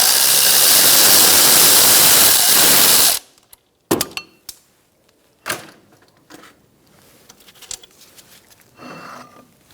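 On a 2004-2009 Mazda 3 front brake, a loud power tool whirs steadily for about three seconds as the caliper bracket bolt is backed out, then stops, followed by scattered sharp metallic clinks and knocks as parts are handled.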